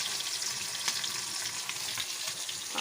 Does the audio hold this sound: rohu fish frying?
yes